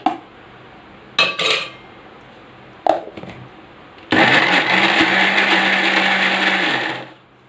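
A few clinks of utensils come first, then a mixer grinder whirs steadily and loudly for about three seconds as it grinds white gongura chutney, then winds down and stops.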